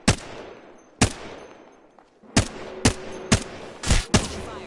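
Charge rifle fire in a shooter video game: a string of sharp, loud blasts with echoing tails, first two spaced a second apart, then a quicker cluster of shots, with no talk.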